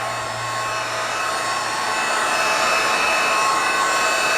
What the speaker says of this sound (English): I'm going to use my heat gun, and I know you probably can't hear me over it